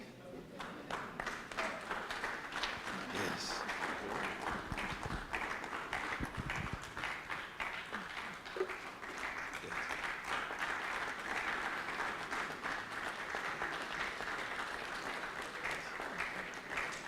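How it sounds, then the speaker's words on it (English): An audience at the Africa Cassava Conference, day 3, applauds in a sustained wash of hand clapping lasting well over fifteen seconds, moderately distant and even, with a few spoken words briefly over it. "and so people can clap for us."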